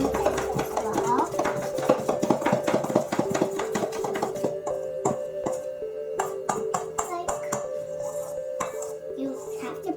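Pancake batter mushed to break up the lumps, a stream of close, irregular wet taps and scrapes of a utensil against a bowl going on steadily, with some voice present underneath.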